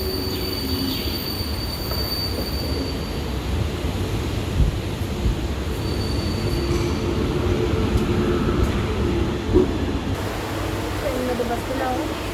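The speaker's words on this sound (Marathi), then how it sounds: "ट्रेनमध्ये बसलेलो आहोत." Local train near Uran station rumbling along steadily with squealing wheels and a constant roar of carriage noise, loud and close from inside the coach, with faint voices underneath.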